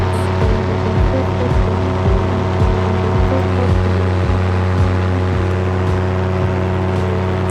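A paramotor engine drones steadily and loudly through a climb over a lake near a runway, with a constant buzzing hum, a deep propeller throb and wind rush, and no voices.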